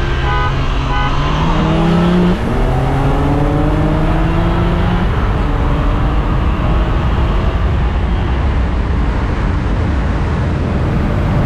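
A stock BMW G80 M3 and a tuned M340i in a dig-and-roll drag race, engines roaring hard as they climb through the gears together, loud and close throughout with rising and falling engine tones.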